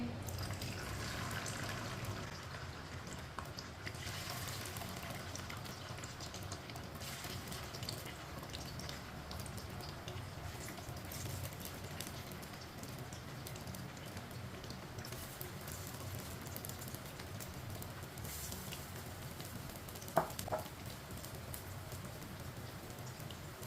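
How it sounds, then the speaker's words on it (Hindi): Potato chips frying in hot oil over a high flame give a steady, even hiss like rainfall throughout, with one brief sharp clink near the end. "ऑयल हमारा अच्छी तरह गर्म हो चुका है। अब इसमें चिप्स डाल लेंगे।"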